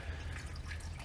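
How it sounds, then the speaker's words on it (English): Fuel dripping from a broken fuel line on a 6.7 Powerstroke diesel, a soft, faint steady trickle and patter heard alone for about a second. "looks like straight fuel's coming out"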